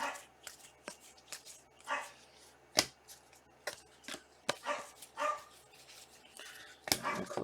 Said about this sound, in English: Doggy's not happy.